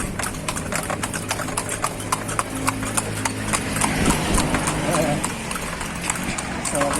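Horse hooves clip-clop in a steady rapid rhythm at close range, with a horse's whinny and people talking faintly underneath.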